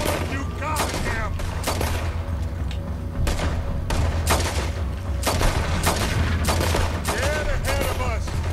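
Dense gunfire from the Red Dead Redemption 2 game, with rapid repeated shots and booming volleys close and loud, fired almost without a break, while voices talk underneath.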